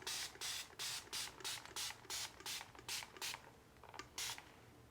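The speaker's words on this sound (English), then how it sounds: "But I'm just spraying." A spray bottle misting a houseplant hisses in a quick series of about a dozen short, close bursts, with brief pauses between squirts.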